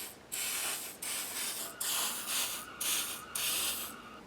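Aerosol bursts of WD-40 sprayed onto an engine gasket during an MR2 build, five sharp hissing sprays with short pauses between them, close and fairly loud with no talking.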